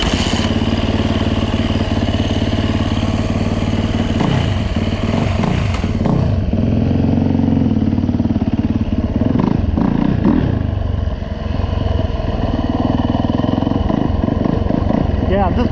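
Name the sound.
dirt bike engine riding in snow, Yamaha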